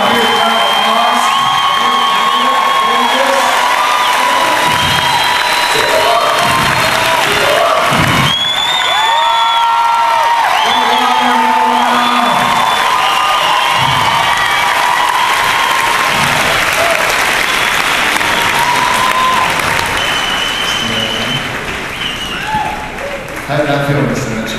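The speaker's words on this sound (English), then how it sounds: "Give him a huge round of applause." A crowd at a hairstyling show erupts in loud, sustained applause with cheers, whoops and excited shouting, a dense roar of clapping and voices that stays strong before easing slightly toward the end.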